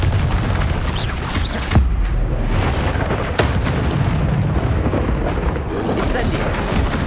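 In the Hogwarts Legacy video game, a Confringo blasting spell explodes in a loud, rumbling barrage with a couple of sharp cracks, amid a constant wash of combat noise while a voice shouts over it.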